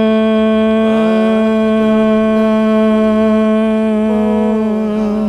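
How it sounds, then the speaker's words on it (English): A steady, sustained humming breath with the tongue curled onto the palate, a rich buzzing voiced tone held for about five seconds, its pitch sliding slightly at the start and end. "a humming breath, but that makes the tone a little bit higher."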